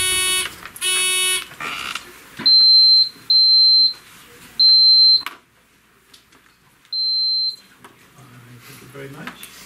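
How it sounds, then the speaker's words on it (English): Quiz bowl buzzers being tested at a high school match, several separate electronic beeps one after another, each about half a second long, loud and close with gaps of quiet between. "let's try the buzzers, starting with Maddie, please."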